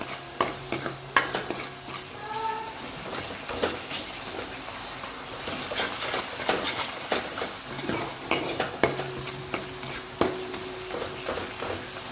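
A boiling mixture of coriander, cumin, asafoetida and salt is stirred in a pot, with repeated scraping strokes and a soft sizzle running steadily underneath, close up and without talk.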